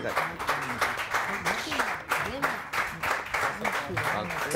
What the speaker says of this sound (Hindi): आगे तालियां